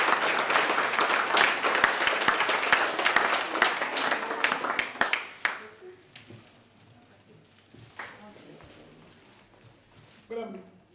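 An audience at an exhibition event applauds loudly and densely for about five seconds, then the clapping thins to scattered claps and fades, with a brief burst near the end.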